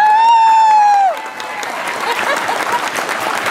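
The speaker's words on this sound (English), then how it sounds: "Let's give her a big round of applause" A loud sustained tone cuts off, then a crowd at a county fair livestock auction breaks into steady applause that continues at moderate volume.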